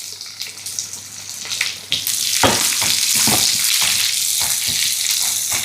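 Chopped onion dropped into a pan of garlic already frying in hot oil, bursting into a loud, steady sizzle with scraping stirs, after a quieter first couple of seconds.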